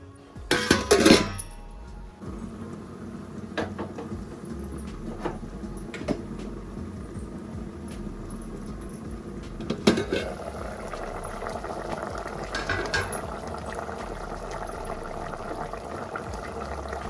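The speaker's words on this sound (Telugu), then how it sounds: "ఒక 15 నిమిషాలు ఉడికించుకుందాం." A pot of chicken curry with sorrel leaves simmers at a steady low bubble, with a couple of metallic clinks from a utensil against the pot early on and again midway.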